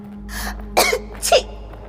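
A woman in a Hindi horror audio drama coughs from basement dust, two sharp close coughs in quick succession after a short breathy sound, over a faint low hum.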